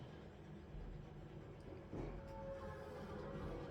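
A train moves along in a video game, a steady low rumble and rolling rattle at moderate level that swells slightly partway through, with a faint tonal whine near the end.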